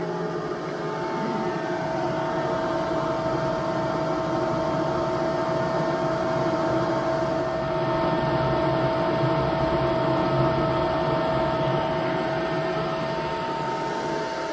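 A laser engraving machine runs with its air purifier and extraction fan, giving a loud, steady mechanical whine and roar that holds unbroken throughout with no talk.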